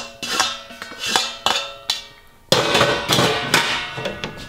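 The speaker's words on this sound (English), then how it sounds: "We're gonna dump in our pasta now." Dry penne pasta dumped into a pot, a series of sharp clattering rattles and scattering taps against the metal, growing into a denser, louder rush of pieces hitting near the end.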